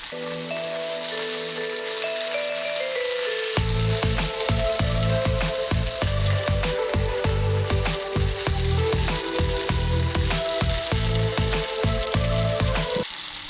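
Vegetables and meat sauté for a gugli snail and potato curry. A loud, steady sizzle runs throughout with repeated spatula scrapes and clacks, and sustained tonal sounds play underneath, most noticeably at the start.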